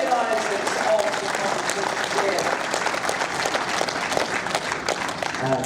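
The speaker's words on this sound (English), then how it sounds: "Please give a massive round of applause." An audience at the Essex Pairs Final 2024 competition gives a steady round of applause for the organisers. Dense, even clapping from many hands continues for several seconds.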